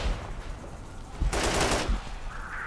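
Gunfire in the military shooter Operation Flashpoint: Red River, a loud burst of rifle or machine-gun shots against a rumbling battlefield background.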